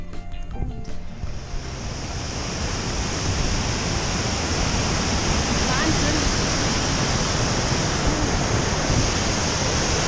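Waterfall roaring steadily in a mountain valley along an alpine trail run, a dense, loud continuous rush of falling water that fills the whole scene close by.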